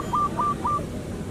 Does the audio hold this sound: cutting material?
no